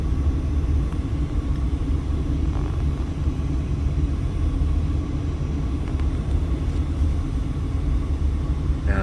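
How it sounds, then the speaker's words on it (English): Heavy afternoon traffic on Sahara Avenue near Las Vegas Boulevard and Interstate 15 in Las Vegas, a continuous low rumble of passing vehicles at moderate distance with no speech. "you can see traffic is nuts."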